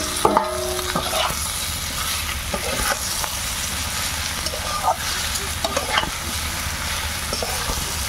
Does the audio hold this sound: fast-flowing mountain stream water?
no